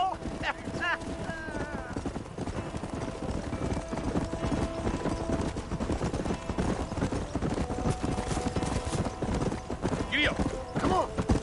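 Horse hooves clip-clopping in Red Dead Redemption, a brisk continuous run of hoofbeats with an occasional whinny, as characters talk over the riding sounds.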